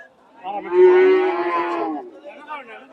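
A Friesian cross cow bellows a single loud, drawn-out moo at a village cattle market in Bangladesh, close by, with faint market bustle around it.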